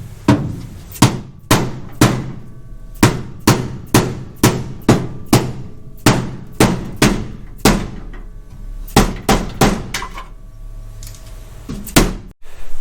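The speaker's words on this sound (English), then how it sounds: "I'm going to adjust all of this with my hammer real quick" A plastic hammer strikes the sheet-metal floor pan of a Chevy Nova in a quick series of sharp, loud blows, grouped in rhythmic runs with brief pauses between them.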